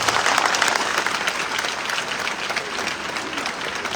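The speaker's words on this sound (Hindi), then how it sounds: "भाई राहुल कुमावत के लिए जोरदार तालियां बजाइए।" Dense, sustained audience applause filling the whole stretch, a crowd clapping hard for a guest at a motivational talk, steady and loud without letup.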